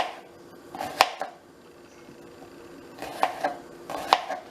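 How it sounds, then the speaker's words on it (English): A knife chops onions on a board for shrimp-chicken noodle soup in a few quick close clusters of sharp knocks, with quiet pauses between them and no speech. "I'm gonna go ahead and cut up these onions real quick."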